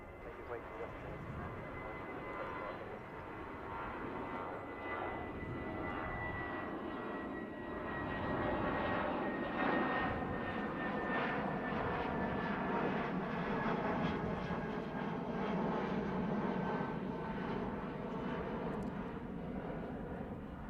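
Airliner engines at Heathrow Airport roar steadily and loudly for about twenty seconds, a continuous broadband rumble that swells slightly midway, with a voice talking faintly underneath.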